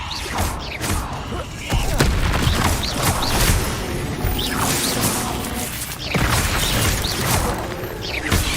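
Spells cast in the video game Hogwarts Legacy, with a rapid string of whooshes, crashes and booming impacts in dense combat, loud and continuous with brief voiced incantations.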